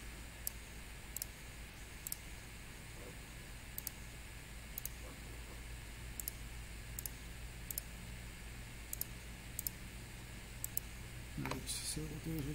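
Sharp faint computer mouse clicks arrive one at a time at irregular intervals over a low steady hiss, with a soft shuffle of movement near the end.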